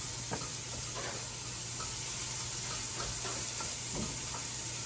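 Garlic and softened onions sizzle steadily in olive oil in a pan, a continuous close hiss with occasional light ticks and stirring taps, no voices.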